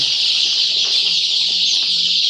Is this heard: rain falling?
no